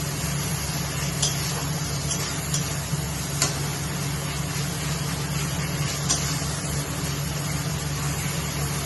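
Ginger and garlic paste frying with onion and tomato for a Bengali chicken curry, a continuous soft sizzle with occasional ticks and scrapes of stirring, steady and close, with no one speaking.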